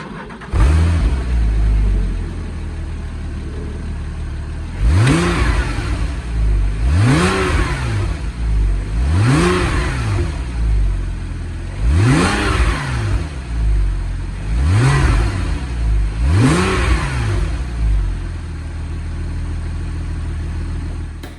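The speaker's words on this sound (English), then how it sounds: "So you've just heard what the standard exhaust sounds like" A Porsche 997 911 engine with standard exhaust revs repeatedly in loud, sharp bursts, each rising and falling, separated by short idle pauses.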